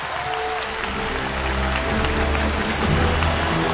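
Studio audience applauding on a Chinese singing competition stage show, a steady dense wash of clapping that swells slightly toward the end, with music tones running underneath.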